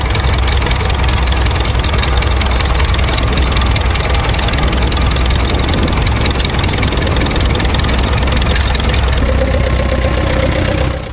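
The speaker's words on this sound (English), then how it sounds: "And to complete the set, a Caterpillar 20. And the Caterpillar 30 following along behind." Vintage Caterpillar 20 and Caterpillar 30 tractors run at a vintage rally, a steady heavy low engine rumble with knocking exhaust beats that holds loud and close throughout, with no talk.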